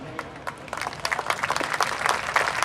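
A crowd at a John Glenn vs Knox game at Four Winds applauds veterans and active military, with many hands clapping briskly and steadily, building slightly over a few seconds.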